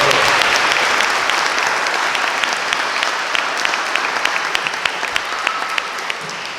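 An audience at a Boys and Girls Club ribbon cutting breaks into sustained applause, dense and steady at first, then thinning into scattered individual claps as it fades.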